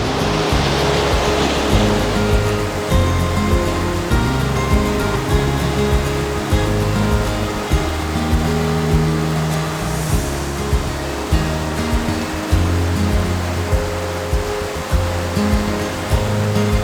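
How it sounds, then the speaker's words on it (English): Boulder Creek running high, a loud, continuous roar of rushing water close by, with steady broadband churn and no voices. "Beautiful water, just sweeping in behind it."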